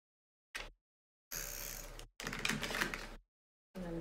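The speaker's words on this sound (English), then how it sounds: "So let's add some tape." Strips of adhesive tape are pulled off a roll in several short, crackling bursts with silent gaps between them, close and fairly loud, while a craft piece gets fitted together.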